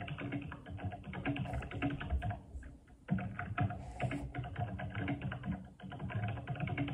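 Rapid, steady computer keyboard typing runs close and fairly loud throughout, briefly pausing once midway before the keystrokes resume.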